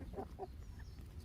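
A rooster on a small home farm gives a couple of short, soft clucks close by, two quick notes in the first half second, then quiet.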